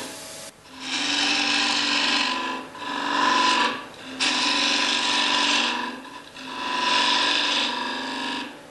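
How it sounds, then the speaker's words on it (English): A gouge on a lathe scrapes wood from the inside of a floating rim bowl in four long, steady rasping passes with brief breaks between them, close and clear, with no talking. "you could use, if you're up to it, a spindle gouge or a bowl gouge, a small one, and you'll get a lot of that material out."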